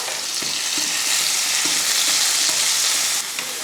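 Onion, garlic, ginger and tomatoes fry for a country chicken curry, giving a loud, steady sizzle with soft intermittent stirring knocks, and no voices.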